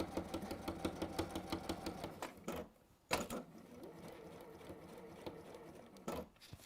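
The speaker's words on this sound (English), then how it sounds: "You don't want to be sewing, double sewing on stuff." A sewing machine stitches fabric up close in fast, even mechanical pulses, pauses for about half a second, then runs again in a steadier whir, with a final short burst near the end and no talking.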